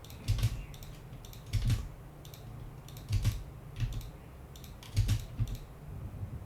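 Computer keyboard typing in short bursts of quick clicks, roughly every second and a half, with quiet gaps between the bursts and no voices.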